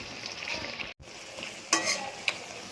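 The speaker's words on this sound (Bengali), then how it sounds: "নেড়ে নিয়ে এটা শুকনো শুকনো করে নেব।" Amodi fish fried with aubergine and onion is stirred in a pan, giving a steady close sizzle with sharp spatula scrapes at intervals and one brief pause in the frying hiss.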